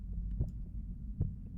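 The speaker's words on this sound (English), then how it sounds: "This thumbing noise reverberating in your minds of this heartbeat sound pulsing." A deep, muffled heartbeat sound effect pulses twice, low and throbbing over a dark rumbling bed, with no voices.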